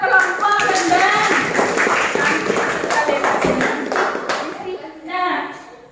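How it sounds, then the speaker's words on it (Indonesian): A school class of children applauds a student group, their clapping brisk and close, mixed with chatter and a teacher's voice throughout. "Beri tepuk tangan untuk kelompok rendang."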